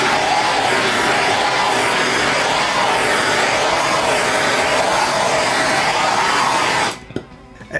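A torch blasting over fresh epoxy poured on a cheap table to pop rising bubbles, a loud steady roaring hiss held close for several seconds before cutting off abruptly near the end.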